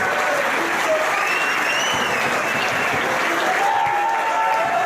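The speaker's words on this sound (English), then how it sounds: "the crowd here in Beyond Wrestling cheering Tessa Blanchard on" A wrestling crowd at a Beyond Wrestling match cheers and applauds steadily after a pinfall, with dense clapping and shouts filling the hall and a commentator talking over it.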